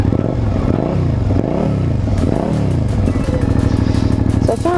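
Suzuki Gladius motorcycle with about 26,000 km, its engine running close by with repeated rising and falling revs, loud and rhythmic, a rattly idle between blips.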